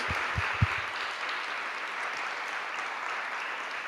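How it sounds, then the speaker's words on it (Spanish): Church congregation applauding during a Spanish-language Sunday service, a steady wash of many hands clapping at moderate distance, with a few dull thumps near the start. "Un aplauso al Señor, por favor."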